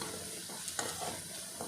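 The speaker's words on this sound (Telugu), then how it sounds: "ఆనియన్స్ ఫ్రై అయిపోతున్నాయి, చూసారా?" Onions and curry leaves with green chillies frying in a pan for a potato, peas and beans curry, giving a soft steady sizzle with faint stirring scrapes and no talk.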